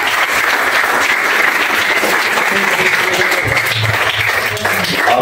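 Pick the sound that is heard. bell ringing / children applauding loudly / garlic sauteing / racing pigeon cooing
children applauding loudly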